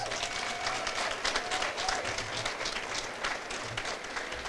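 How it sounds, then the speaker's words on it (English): Audience applause at a charity kickoff event, a steady, dense crowd clapping sustained throughout at moderate distance, with faint voices mixed in. "Give him a round of applause."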